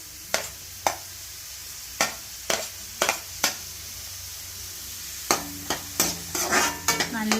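Repeated scraping stirs of capsicum and onions frying in a pan for fried rice, a dozen or so sharp strokes spaced irregularly over a steady sizzle, close and moderately loud.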